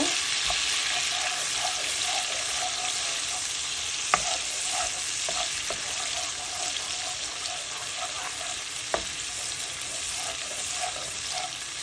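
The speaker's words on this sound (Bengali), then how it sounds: "এই বাটারের মধ্যে নিয়ে এখন রসুন দিয়ে চিকেনটা এখন ভালো করে ভেজে নিব" Chicken frying with garlic in butter, a continuous loud sizzle with soft stirring scrapes and a couple of sharp utensil knocks against the pan, no speech over it.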